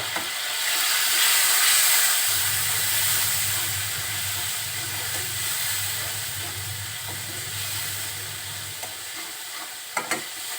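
Spice paste with chili powder frying in a pan for a fish curry with snake gourd, a steady close sizzle and hiss running throughout, with a low rumbling hum under most of it and a couple of sharp clinks near the end.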